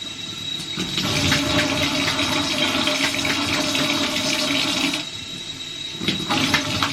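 Running water splashes steadily as an aquarium filter is rinsed beneath a tap, loud and close, cutting off briefly near the end before resuming.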